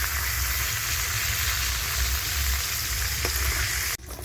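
Food fries in a pan for fried rice, giving a close, continuous hiss and sizzle at an even level with no voices.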